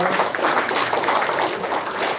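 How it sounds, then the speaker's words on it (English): Steady crowd applause at an International Women's Day celebration, a continuous dense wash of many hands clapping, fairly loud and sustained throughout. "A big round of applause for"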